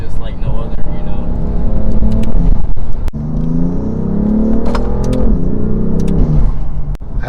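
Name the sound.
BMW F80 M3 Competition DCT engine intake noise while driving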